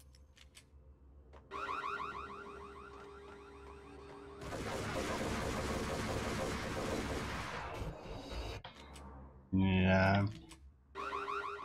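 Electronic alarm beeping inside a store in Max Payne, a steady repeating tone running under gunfire and game noise, with a brief spoken word near the end.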